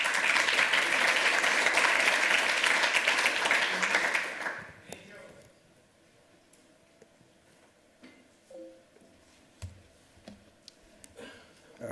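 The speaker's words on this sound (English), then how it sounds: "Round of applause for whatever made that work." Audience applause fills a lightning talk session at the 28c3 Chaos Communication Congress, a dense loud clatter of many hands for about four seconds that then cuts off, leaving scattered faint clicks and low murmurs.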